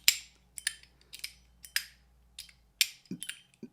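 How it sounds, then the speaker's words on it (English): MUYI Musketeer spinning top ratchet with a metal ball inside, producing a series of sharp, bright clicks in an irregular rhythm, close and crisp, ending with a small ringing ping. "this kind of clicky Zippo lighter sound. And it has that little ping at the end of it"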